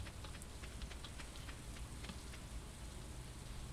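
Steady rain in the Stardew Valley video game, a soft continuous patter with scattered droplet ticks, moderately quiet and alone with no talking.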